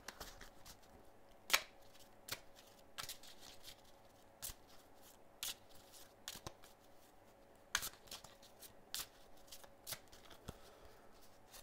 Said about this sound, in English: So we're going to go ahead and shuffle our discard pile.